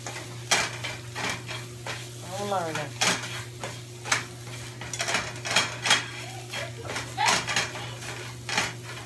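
Eggs cooking in a pan after spinach, a soft sizzle under repeated clinks and scrapes of a utensil against the pan, with a steady low hum behind; brief talk is heard.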